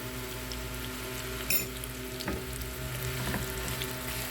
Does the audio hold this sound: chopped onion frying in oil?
yes